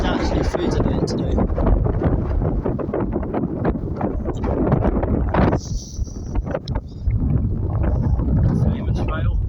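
Cold January wind at El Cotillo on Fuerteventura in the Canary Islands buffets the microphone in loud continuous gusts, with a person talking over the roar.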